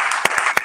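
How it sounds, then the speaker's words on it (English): A few distinct hand claps from a church congregation, sharp and close, in a brief burst over a faint background murmur. "let's give God a hand clap for that"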